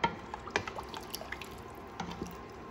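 Kitchen-temperature tap water poured over uncooked rice for home-oven meat mandi, heard as faint scattered drips and soft splashes with a few sharper taps, no talking.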